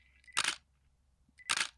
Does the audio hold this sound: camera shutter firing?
yes